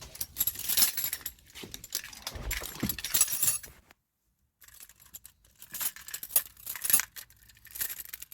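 Car keys for a VQ-engined Nissan Sentra jingle and rattle close by in bursts, falling silent for a moment midway before the metallic clinking picks up again.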